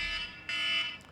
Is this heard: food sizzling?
no